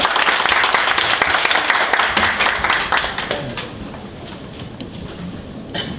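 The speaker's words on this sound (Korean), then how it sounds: "큰 박수 모시겠습니다." An audience at a union training lecture claps loudly and densely for a few seconds, then the applause thins out and fades into a few scattered claps.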